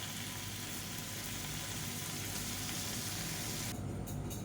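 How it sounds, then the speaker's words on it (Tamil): Paneer pieces fry in a pan on a medium flame, producing a dense, continuous close sizzle that stays steady and loud throughout, with a brief dip in the crackle near the end. "இப்போ இந்த பன்னீரை நல்லா கோல்டன் கலரில் எல்லா சைடும் வர மாதிரி போட்டு வறுத்து எடுத்துக்கலாம்"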